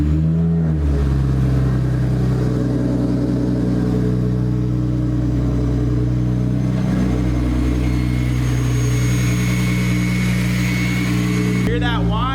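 A BMW 340i engine with a Speedtech top-mount turbo and Turner Motorsport exhaust revs and rumbles steadily close by, with a high turbo whine rising over the deep exhaust note before it drops away at the end.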